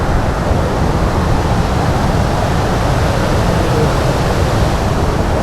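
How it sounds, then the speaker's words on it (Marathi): A perennial waterfall near a glass bridge in Vaibhavwadi, Konkan, heard as a loud, steady broadband rush of falling water, continuous and close with no voices. "इथून आपण धबधबा कसा आहे तो बघू शकतो"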